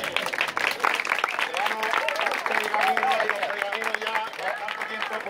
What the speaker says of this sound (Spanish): un aplauso para Julio